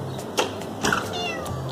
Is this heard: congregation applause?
no